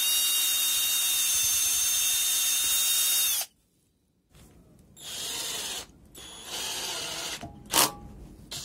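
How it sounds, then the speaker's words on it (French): Drill bit boring pilot holes into an oak tabletop: a loud high-pitched motor whir for a few seconds, then a pause and shorter spurts of drilling and grinding. "Donc vous prenez une mèche d'un diamètre légèrement inférieur à la vis."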